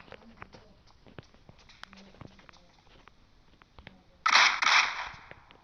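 Gunfire in the PUBG Mobile game: a sharp burst of a few rapid shots near the end, after quiet, faint clicks and patter.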